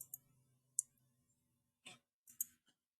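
A few faint, sharp computer mouse clicks while working in CATIA CAD software, isolated ticks spread across a quiet background with a soft hum.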